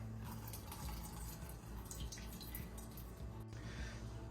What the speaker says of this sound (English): I'll start using the cheesecloth to drain the water.